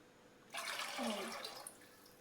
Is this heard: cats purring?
no